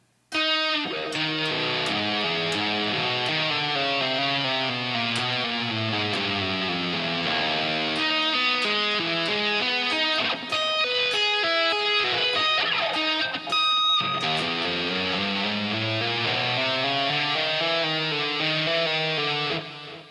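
Electric guitar plays a fast "Flight of the Bumblebee" solo section slowly, a busy run of many quick notes at a moderate pace, dense and continuous for about twenty seconds with a brief pause midway.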